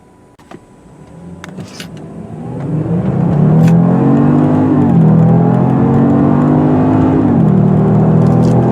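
A 2018 Genesis G80 Sport's V6 turbo engine rises into a loud, deep acceleration, revving steadily with a couple of gear shifts, heard from inside the car.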